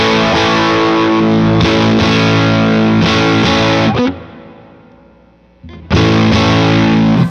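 Electric guitar through a Sleep Champion Horse Cult pedal with the bass tone switch down, loud thick distorted chords strummed steadily, one left to decay into near quiet before the heavy playing bursts back in.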